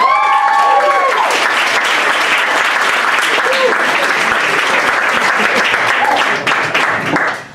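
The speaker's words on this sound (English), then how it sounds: "let's have some sympathy applause for our final comedian, Matt Pickerton" Comedy-club audience applauds and cheers the final stand-up comedian at a grad show, loud, sustained clapping for about seven seconds before tapering off at the end.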